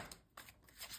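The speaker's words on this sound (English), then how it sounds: "And then shuffle them all together so that they're properly shuffled." Tarot cards are shuffled by hand in quick, faint riffling bursts, soft and close, with brief gaps between passes.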